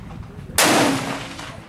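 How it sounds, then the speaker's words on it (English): A loud powder-burner rifle shot at a shooting range, a single sharp crack that bursts in suddenly and then rolls off in a fading echo, heard alone. "I'm shooting next to very loud rifles, powder burners"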